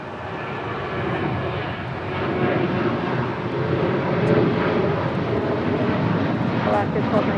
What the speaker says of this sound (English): That is Alaska 1219 departing to Seattle